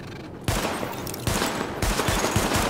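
Rapid sidearm shots at highlighted targets on a firing range in The Division, landing in three loud bursts of quick, sharp reports close by, with no talk over them.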